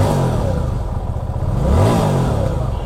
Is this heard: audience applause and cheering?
no